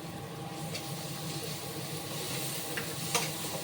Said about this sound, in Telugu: ఇది కొంచెం వేగించాలి వేగిస్తే పచ్చివాసన కూడా ఫ్లేవర్ వస్తుంది